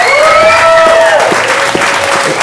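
Applause and cheering from a Las Vegas rock show crowd, steady and dense, with a sustained tone and some voices ringing over the clapping.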